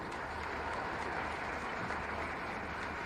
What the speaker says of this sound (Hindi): बहुत हल्की तालियां हैं गोरखपुर वासियों